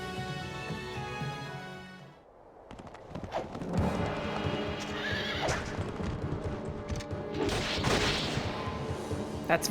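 Horse hooves from the Fire Emblem: Radiant Dawn video game, a rapid clip-clop of galloping cavalry mixed with game music, sharp impacts and whinnies, loud and busy after a brief quieter pause.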